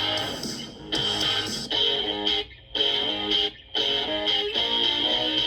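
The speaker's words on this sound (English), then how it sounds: "So now the rhythm guitar part, the primary part, sounds like this." Rhythm guitar part played through a GarageBand amp simulator, distorted chords struck in rhythmic bursts with brief gaps of silence between phrases, clear and alone.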